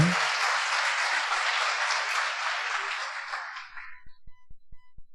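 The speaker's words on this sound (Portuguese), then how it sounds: "dê um aplauso ao Senhor. Dê forte esse aplauso" Loud, dense applause from a church congregation during a Portuguese-language sermon, a steady wash of many hands that fades out near the end, leaving a few rhythmic claps.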